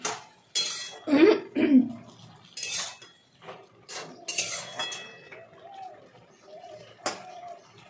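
A spoon clinks and scrapes against a pot as boiled taro is stirred, a few metallic knocks in irregular bursts, while pigeons coo softly nearby; no one speaks.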